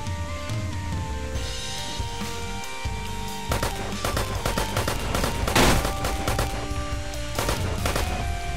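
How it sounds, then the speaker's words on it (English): Sniper gunfire in the shooter game Metro Conflict: many sharp shots and bursts crack over a dense, steady game background, with the volley growing busier and louder in the second half. "Oh, they're sniping. They got a sniper."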